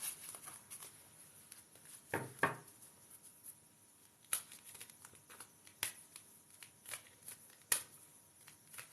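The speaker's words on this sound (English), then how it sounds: "shuffle these cards for our Isa." Tarot cards being shuffled in quiet, brief riffling bursts with a few sharp snaps and soft taps, fairly close and low in level, with no talking.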